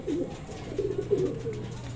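Soft, low cooing from a racing pigeon returning from a 213 km derby repeats in short bursts over a steady background hum, fairly close and moderately quiet.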